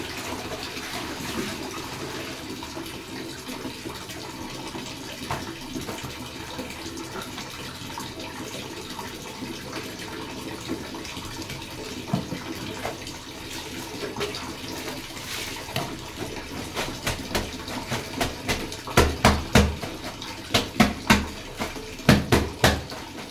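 Clothes washed by hand under running water, a steady rush of flowing water with splashing and sloshing that grows into loud, rhythmic slaps and wrings near the end, close by with no talking.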